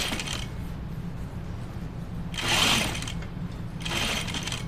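A sewing machine stitches a seam along a gathering stitch while making a Scout Tee, with two short, moderately loud running bursts over a low background hum.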